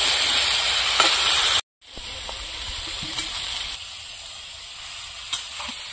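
Cauliflower and river fish curry sautés in a pan after chili powder goes in, giving a steady close sizzle and hiss that cuts out for a moment, then carries on more softly.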